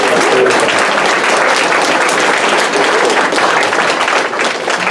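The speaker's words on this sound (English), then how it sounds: "I think that deserves applause" Wedding guests break into loud, sustained applause after heartfelt vows, dense close clapping filling the whole stretch with no talking.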